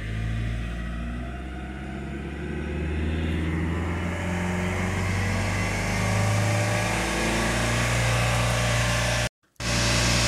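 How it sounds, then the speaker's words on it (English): A Vauxhall Antara diesel engine runs at high, steady revs during DPF regeneration while fixing a pressure sensor fault, a loud continuous drone that rises slightly and holds before a brief dropout near the end. "The engine's going to rev up quite high whilst this is going on, but that's normal."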